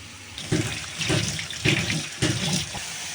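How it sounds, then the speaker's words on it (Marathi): Tap water runs into a sink while handfuls of wild leafy greens are rinsed and swished to clear soil, splashing in several irregular bursts close to the listener. "ही भाजी स्वच्छ अशी धुवून घ्यायची"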